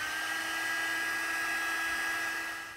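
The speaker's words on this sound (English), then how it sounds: "I'm going to emboss this with my heat gun" A craft heat gun blows steadily to heat-set embossing powder, giving a continuous close whine and airy rush that holds level for a few seconds and then begins to fade.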